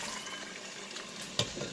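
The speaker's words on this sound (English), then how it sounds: "Take 2 cups of beef broth, pour it right on top" Beef broth poured over a roast in a cooker, a soft, steady liquid stream with a brief splashy burst near the end, no talking.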